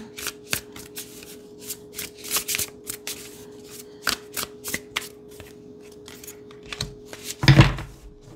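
Cards are shuffled repeatedly, crisp riffling bursts and taps in an irregular rhythm, close and fairly quiet, ending with a slightly louder thump.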